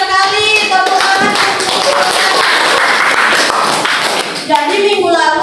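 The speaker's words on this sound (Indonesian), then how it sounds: "bagus sekali, tepuk tangan." A classroom of students claps hands together in a sustained burst of lively, close-up clapping, with a teacher's voice speaking over the start and end.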